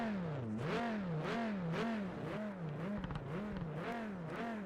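A race car engine in a racing video game climbs and drops through its revs in steady rhythmic waves, loud and alone, without any talk.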